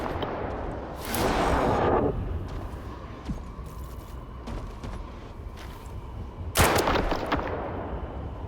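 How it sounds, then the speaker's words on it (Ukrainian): Gauss gun shots in S.T.A.L.K.E.R. 2 crack out as two loud, sharp bursts several seconds apart, with a few fainter clicks and thuds between them over a dull background hum. "З гаузки йому достатньо декількох пострілів."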